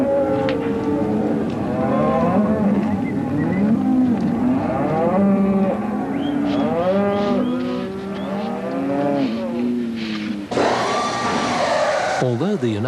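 Cattle at a feeding center moo repeatedly in overlapping, drawn-out calls, loud and close, one after another throughout, with a brief burst of noise near the end.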